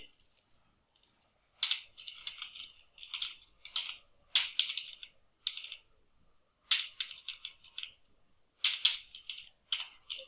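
Typing of PHP code on a computer keyboard, with quiet bursts of rapid key clicks separated by short pauses, close and alone.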